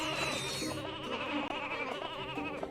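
In the video game Ratchet and Clank: Going Commando, sheep bleat in a wavering, overlapping chorus that runs throughout, close and fairly loud above the game's ambient sound.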